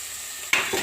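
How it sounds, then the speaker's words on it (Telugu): Sliced onions hit a hot pan for a potato and egg curry, starting with a faint steady hiss before a sudden louder sizzle and stirring burst halfway through the brief moment. "ఉల్లిపాయలు ఎరగా వేసిన తర్వాత"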